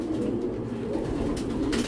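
Racing pigeons coo softly and steadily, a low continuous murmur of several birds close by in a loft.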